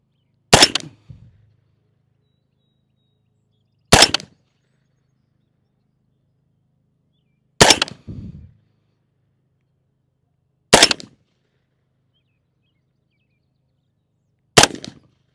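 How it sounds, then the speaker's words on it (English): Five sharp, well-spaced shots from a 300 Blackout rifle firing Hornady SubX 190-grain subsonic ammunition at a range target, each a crisp crack with a short low thump after it, spaced a few seconds apart with silence between. "let me do one more five-shot group at another spot on the target"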